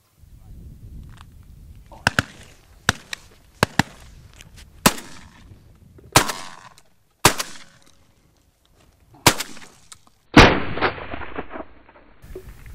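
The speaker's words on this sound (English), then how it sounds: "This is wing shooting at its very, very, very best." Repeated shotgun blasts during dove wing shooting in Uruguay, sharp loud reports spaced a second or two apart with a few quick doubles, the last one heavier and followed by a lingering rumble.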